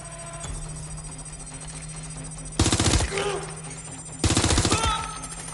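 Two loud bursts of rapid automatic gunfire erupt in Watch Dogs Legion, separated by a short lull, over a low droning game background.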